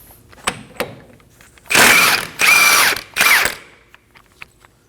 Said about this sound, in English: Using a 32mm socket, we're gonna go ahead and remove the axle nut.